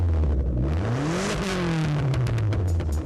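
Dodge SRT4 exhaust droning loudly from inside the cabin while driving, a steady engine note that rises and falls with throttle through the whole stretch, no talking.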